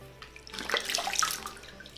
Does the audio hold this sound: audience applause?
no